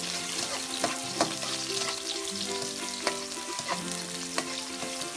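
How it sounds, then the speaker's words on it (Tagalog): Garlic, onion and sliced ginger sautéing in hot oil for chicken tinola, a continuous crackling sizzle with periodic stirring scrapes and clinks of a utensil against the pan, with no speech. "Pag mainit na, pwede na natin ilagay ang ating bawang at sibuyas."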